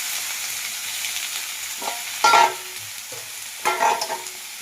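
Chicken skin frying with potatoes and tomatoes in a pan: a steady low sizzle with a couple of louder bursts of stirring and clattering, close by and with no voices.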